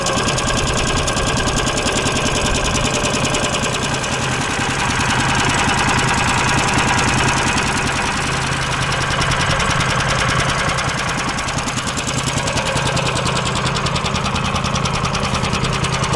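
A freshly assembled Koira motor tug, an all-terrain tracked hauler for hunting and fishing, idles just after its first start, its small engine chugging with a fast, even, rattling beat, close and loud for the whole stretch.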